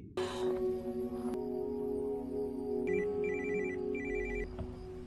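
A telephone rings steadily through the clip, its electronic warbling tone repeating in short bursts over a soft, constant background, loud and close.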